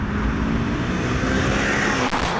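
A white Mitsubishi Evo VI rally car drives in poor conditions, its engine and road noise a steady, loud, broadband rumble throughout, with a brief swell near the end.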